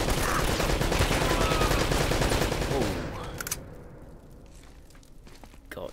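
An enemy fires a rapid, loud automatic burst in the fortress level of Uncharted: Drake's Fortune, and the shots stop abruptly about halfway through, leaving quiet ambience.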